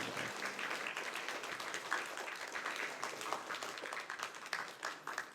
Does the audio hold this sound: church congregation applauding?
yes